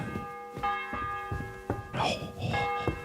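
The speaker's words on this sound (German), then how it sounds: "Das ist die 11. Glocke, ne? Der 11. Schlag der Glocke." Church bell tolling in the medieval game Kingdom Come: Deliverance 2, with repeated resonant strikes ringing out against background game ambience and some voices.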